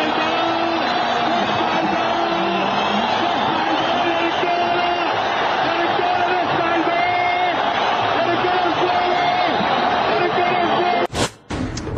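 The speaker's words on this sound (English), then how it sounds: "Listen to that crowd." A large crowd packs the square celebrating Hosni Mubarak's fall, a dense, continuous roar of cheering, whooping and shouting that stays loud and steady throughout before briefly breaking off near the end.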